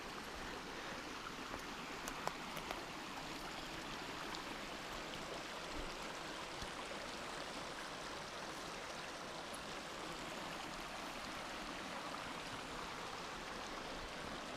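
Roaring Creek rushes past a backcountry campsite in a steady, even torrent of flowing water, close and continuous with no breaks or voices over it.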